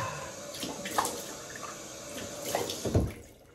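Water splashing and dripping at a sink as a Fatboy replica safety razor is rinsed mid-shave, a soft close trickle with a few small splashes.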